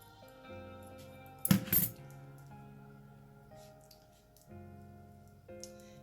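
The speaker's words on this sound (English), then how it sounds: "So I'm just going to cut this to a slight angle." Scissors snip once through a bow ribbon, cutting the end at a slight angle for a wine glass centerpiece, a short sharp crisp cut close up over a quiet room hum.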